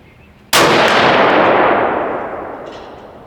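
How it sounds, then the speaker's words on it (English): A .270 Winchester rifle shot fired at a steel target 100 yards downrange: one sudden loud blast with a metallic ring, then a long echo that slowly dies away over a few seconds. "I've got a target down there at 100 yards on steel"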